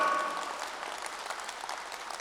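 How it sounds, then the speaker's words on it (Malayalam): Applause from an audience at an awareness class for parents, a soft, fairly distant steady patter of clapping hands lasting a couple of seconds. "ഒരു ഗംഭീര കൈയടി കൊടുക്കാം"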